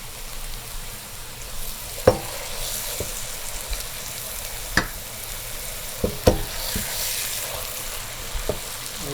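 Lamb shank sautéing in a pot for dill and fava bean rice, a steady soft sizzle with a few sharp clicks and knocks of a utensil against the pot, heard close and alone without talk.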